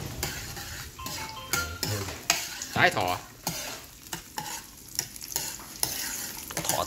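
Garlic fries in oil in a pan with a steady sizzle, while a utensil stirs and scrapes against the metal in irregular clatters; a brief voice speaks once.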